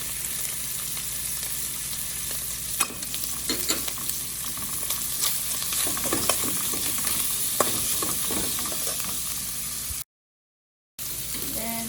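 Pimento, half an onion and a piece of hot pepper fry with saltfish in a pan, giving a steady close sizzle with repeated scraping stir strokes and a brief dropout near the end.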